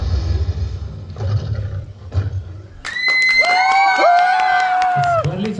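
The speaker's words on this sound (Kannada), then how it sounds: "ಬರ್ಲಿ ಚಪ್ಪಾಳೆ" An audience cheers and shouts after a dance performance, first a low rumble of crowd noise, then loud rising whoops and cheers over clapping that cut off sharply near the end.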